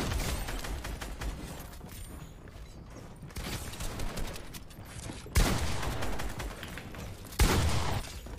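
The player's gun fires in Fortnite with rapid, repeated crackling bursts of gunfire, broken by pauses and two sharper, louder shots near the end.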